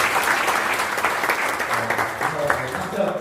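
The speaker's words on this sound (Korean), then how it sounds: "박수하겠습니다." An audience applauds at a graduation and appointment ceremony for unification missionaries in a university memorial hall, a steady, dense clapping heard throughout at moderate loudness.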